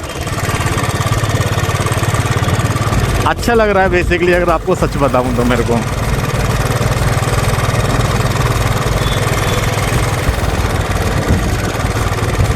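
A motorcycle with a reported engine fault drones steadily during a ride near Sukhdev Vihar metro station, a constant low rumble mixed with wind under someone speaking throughout.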